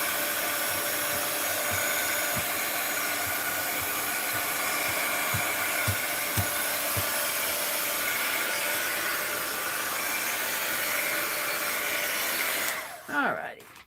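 A handheld hair dryer blows steadily on the back of a mixed-media art journal page, a loud, continuous whooshing hum lasting about twelve seconds before it cuts off abruptly.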